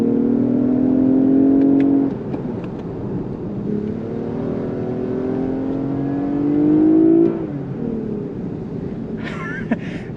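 The naturally aspirated V6 of a 2019 Lexus ES 350 F-sport revs hard twice inside the cabin, each rising engine note climbing before it drops off, with a steady road hum underneath.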